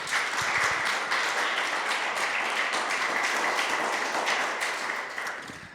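Audience applause at a parish talent event, a dense, steady round of clapping from a crowd, loud and sustained before tapering off at the end.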